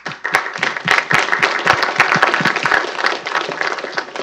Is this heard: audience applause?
yes